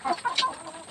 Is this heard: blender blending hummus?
no